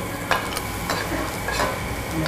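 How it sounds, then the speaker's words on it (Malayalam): Chopped shallots and green chillies sautéing in oil in a pan, a continuous close sizzle with faint stirring scrapes, no talking. "ഇതെല്ലാം കൂടി നന്നായിട്ട് ആ എണ്ണയിലൊക്കെ ഒന്ന് വഴറ്റി. ചെറുപുള്ളിയാണ് യൂസ് ചെയ്യണേ. ചെറുപുള്ളി അരിഞ്ഞത്"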